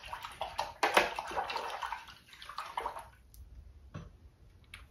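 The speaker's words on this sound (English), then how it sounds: "make sure you're rinsing your brushes out" Paintbrushes are swished and rinsed in a water container during an acrylic painting session, giving irregular splashing and sloshing bursts with short pauses between strokes, close up and fairly quiet.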